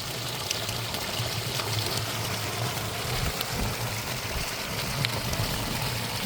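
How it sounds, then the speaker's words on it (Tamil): Water leaks continuously from a source, trickling and splashing in a steady, faint stream with no pauses and no voices. "அப்படியே தண்ணி ஒழுகி கொண்டே இருக்குது."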